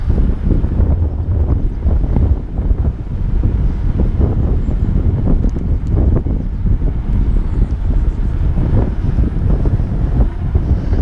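Strong wind buffets the microphone while a cyclist rides an e-bike along the Cornish coast around the Lizard, a loud, constant roaring rumble with gusty surges and no talking.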